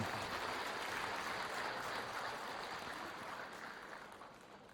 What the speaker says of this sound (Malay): Berilah tepukan pada mereka